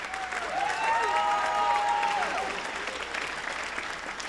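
A school band concert audience applauds a teacher with a sustained round of clapping and a few cheers, the clapping dense at first and gradually thinning, with a whistle-like tone rising briefly above it.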